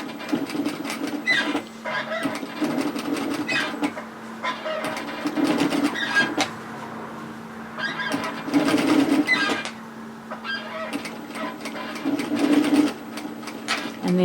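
A sewing machine stitches a pocket on a hoodie from the back of the garment, running in repeated bursts of rapid mechanical whirring, with short pauses between runs and a steady hum underneath.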